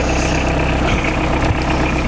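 A vehicle engine idles steadily at night, a close, continuous low rumble with even texture and no voices.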